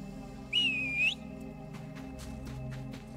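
A single clear whistle in the Soulmask survival video game, a rising-and-falling tone lasting about half a second, loud against a low steady game background with soft clicks afterward.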